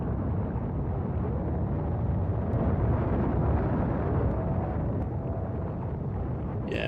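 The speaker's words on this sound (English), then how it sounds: "Let's just have a look at some rockets being launched." Rockets launching in the Factorio game, a dense, steady roar of rumbling engine noise filling the whole stretch at constant loudness, with no talk over it.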